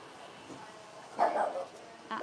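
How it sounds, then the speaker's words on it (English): A dog gives a short bark and a whiny yip indoors, sounding fairly close against a quiet background, with a faint voice nearby. "I don't know why you're barking"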